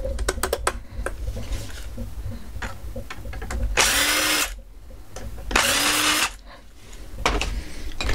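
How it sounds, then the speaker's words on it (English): A power screwdriver drives a screw into a Carbine digital lock in two loud whirring bursts, each ending with a rising pitch, between clicks and taps of handling up close. "There's my screwdriver, picking up the thread."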